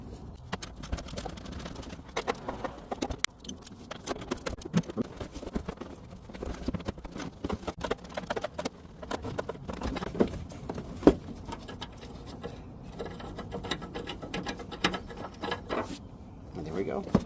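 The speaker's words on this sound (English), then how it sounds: "Loosen the 2 10mm bolts and then remove the one way in the back" Ratchet loosening 10mm bolts on a Chevy Cobalt during a radiator replacement, giving steady, rapid mechanical clicking that continues throughout at close range.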